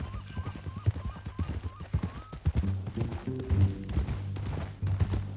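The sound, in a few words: horse hooves and neigh in Red Dead Redemption 2 video game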